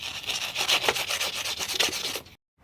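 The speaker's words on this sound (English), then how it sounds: "I'm gonna go ahead and give each one of these pieces a bit of a sanding" Small plastic emblem and camera-housing pieces from a 2016 Ford F250 tailgate are scuffed with 220 grit sandpaper in quick, steady, scratchy back-and-forth strokes, close and continuous before stopping abruptly.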